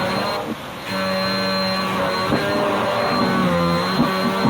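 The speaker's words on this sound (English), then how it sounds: "Does somebody hear a vacuum cleaner or something?" A vacuum cleaner drones steadily in the background, a constant whirring hum with shifting tonal bands, picked up through an open microphone during an online tabletop role-playing game session.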